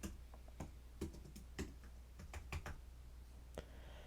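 Keys on a computer keyboard are tapped in short irregular bursts, a handful of crisp clicks spaced apart at close range in a quiet room, with no talking.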